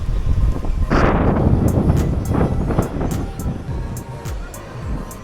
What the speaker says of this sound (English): The wind has really picked up again.